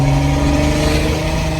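A diesel truck engine fitted with a BD Diesel S364.5 turbo kit idles loud and close, a steady deep rumble with a droning hum and no break.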